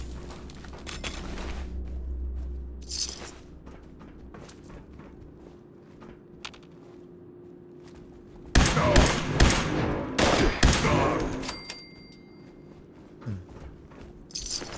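Laser sniper rifle firing in a level 50 video game build, with several sharp loud shots bunched together in the second half over quieter ambient game noise and footsteps.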